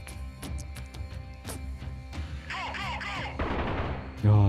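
Gunfire in the war game Freeman: Guerrilla Warfare, with several sharp separate shots followed by denser bursts and a heavy boom at the end, heard among other game sounds.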